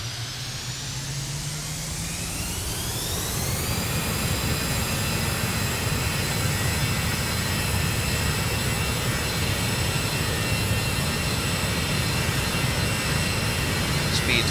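Cessna Longitude jet engines spooling up to full throttle in Microsoft Flight Simulator: a rising whine climbs for several seconds, then holds as a loud, steady roar with high tones and no talking.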